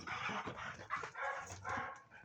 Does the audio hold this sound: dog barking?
yes